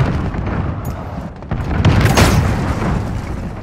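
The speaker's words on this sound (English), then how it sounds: "Allied cruise missile away." Heavy, booming rumble from a cruise missile launch and explosion in Call of Duty: Modern Warfare, loud and sustained with a swelling blast near the middle and no voices.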